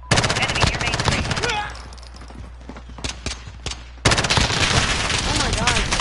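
Rapid gunfire from firearms in a Call of Duty match, bursts of automatic shots near and loud at the start and end with a quieter stretch between, mixed with game effects and some voice.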